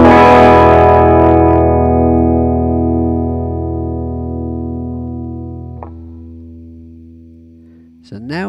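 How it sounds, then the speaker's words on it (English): Overdriven electric guitar through a Nembrini Double Reverb amp plugin: a loud chord rings out with drive and slowly decays over several seconds, followed by a couple of short picked notes near the end. "I'm starting to get some drive out of this amp now."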